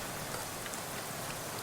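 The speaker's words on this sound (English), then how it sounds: "A miserable-looking hitchhiker is standing in the rain," Steady rain falls in the video game Shadows Over Loathing, a continuous, even hiss of drops spread across the whole moment with no talking.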